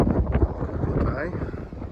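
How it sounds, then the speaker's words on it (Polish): Steady wind gusting and buffeting the microphone at a channel between islands on Korčula, Croatia, a continuous low roar with talking over it. "Tu zawsze wieje wiatr, co pewnie słychać."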